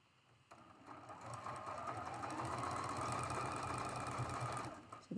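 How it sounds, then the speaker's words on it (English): A sewing machine runs steadily, stitching the connecting seam of a traditional fan dance quilt block, a close, continuous motor whir and rapid needle chatter starting after a brief pause and running without talk. "We are sewing the connecting seam there and there."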